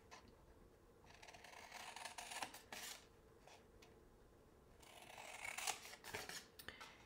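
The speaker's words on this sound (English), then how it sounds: "we're just going to cut up to the score line" Scissors snipping through card stock for a pop-up card, cutting up to a score line, with several quiet close crunching cuts and scraping blade strokes, some louder bursts, and no talking.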